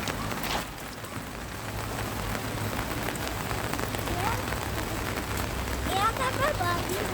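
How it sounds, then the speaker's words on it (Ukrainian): Steady heavy rain hissing and pattering on surfaces, continuous and fairly close, with a few faint voices in the background. "який дощик лє великий?"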